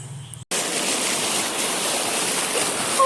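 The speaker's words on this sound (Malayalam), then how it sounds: "നമ്മൾ ഈ വെള്ളച്ചാട്ടം കാണാൻ വേണ്ടിയിട്ടാണ് കുറേ നേരം അലഞ്ഞിരുന്നത്" A waterfall gives a steady, loud broadband roar of rushing water, close by and continuous after a brief silent gap at the start, with no voices.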